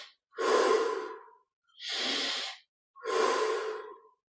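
Slow, deep breathing during a guided Kriya Yoga meditation: three long, close breaths, each a soft airy rush lasting about a second with short silent pauses between, no talking.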